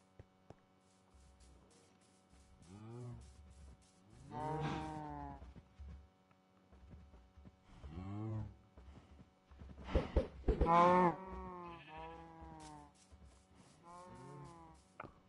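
Cows in the video game Minecraft moo several times in drawn-out, clear, fairly close calls separated by quiet gaps.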